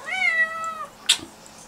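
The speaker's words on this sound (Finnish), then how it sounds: "Meillä on kissa!" A house cat gives one clear, drawn-out meow close by, followed by a short sharp noise and then quiet, with no talking.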